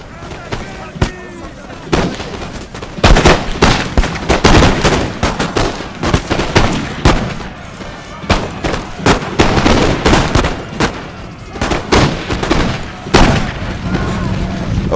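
Massed musket volleys from musketeers in Napoleon Total War crackle and boom continuously, dense overlapping shots of varying distance, with a voice talking over the din.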